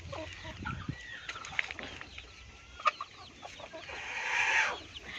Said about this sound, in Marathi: बघू शकता आपले पिल्ले.